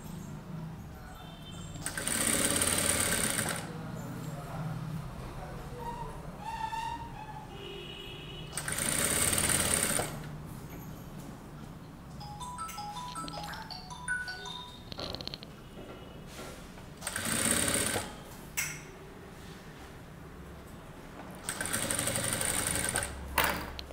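A sewing machine stitching piping along a neckline edge with a side pressure foot runs in several short bursts of steady whirring, each a second or two long, with quieter handling sounds between them.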